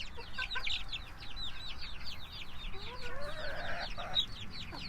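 Polish and frizzle chickens cluck and chatter softly nearby on a small farm, with several overlapping birds making short repeated calls over low outdoor background noise.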